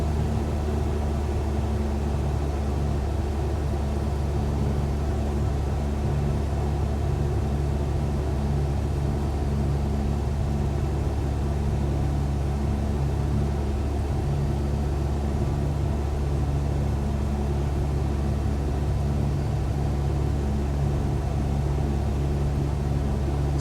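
A Cessna 172 piston engine drones steadily in flight with the throttle eased back, a loud, unbroken low hum and propeller rumble filling the cabin throughout with no pauses.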